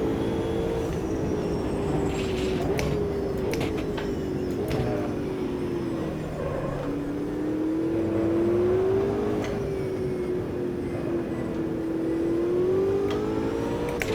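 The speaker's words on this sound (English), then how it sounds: "See how they take off like a rocket despite the wet weather." Race cars accelerate hard on a wet track in the Automobilista 2 racing game, a loud continuous engine drone rising and falling in pitch over about fourteen seconds, with no voices.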